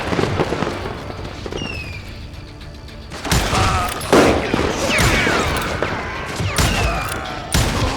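Gunfire in the Western shooter game Call of Juarez Gunslinger: loud bursts of rapid shots and booms with ricochet whines, clustered in dense volleys, with background game sounds throughout.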